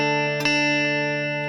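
A guitar sounds the opening notes of a melody: a bright ringing tone, with a fresh pluck partway through, sustaining close and clear.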